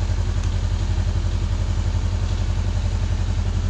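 A motorcycle engine idles after a fresh oil and filter change, a close, loud, steady rapid thumping that stays even throughout with no voices.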